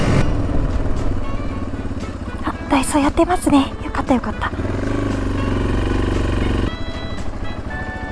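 Motorcycle engine running steadily on a Japanese island street during a touring trip, with someone talking over the continuous engine drone.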